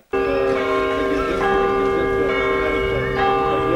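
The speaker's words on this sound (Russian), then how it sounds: "Здесь звон колоколов знаменует начало крестного хода." Church bells ring out loud and sustained at the start of a religious procession in Kudymkar, their rich overlapping tones starting abruptly and continuing steadily, with no voices.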